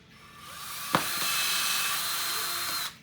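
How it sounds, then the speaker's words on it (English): A power drill whines up to a steady high-pitched grind as it bores through PVC pipe, with a brief clunk early on, runs for about two seconds, then stops. "Drill a hole through the PVC."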